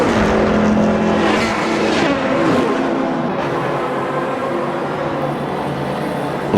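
Race cars at Indianapolis in the AMS2 racing game, including a Maserati close behind a Corvette, roar loudly and continuously with engine drone and tire noise, alone without voices.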